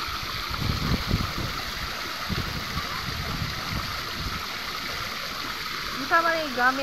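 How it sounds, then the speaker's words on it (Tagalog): Steady rush of water from a small motor-driven waterfall at People's Park, San Carlos City, a continuous splashing flow, with a brief voice near the end. "sa maliit na falls sa People's Park, dati wala tong tubig, ngayon meron na"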